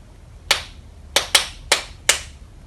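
Five crisp hand claps in a short syncopated pattern, including a quick pair, made for young pupils to copy back, close and alone in a quiet room.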